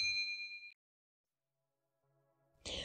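Notification bell sound effect: a bright, clear ding rings out at the start and decays quickly, then silence, followed by a faint tone and a short burst of noise at the end.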